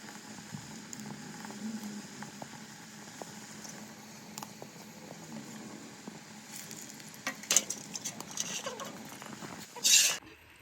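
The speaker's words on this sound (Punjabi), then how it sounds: "ਹੁਣ ਆਪਾਂ ਗੁਲਗਲੇ ਪਕਾਉਣ ਲੱਗ ਰਹੇ ਜੀ" Gulgule, sweet fritters, sizzle steadily in homemade mustard oil, a soft continuous crackle with occasional sharper pops and a louder burst near the end, no talking.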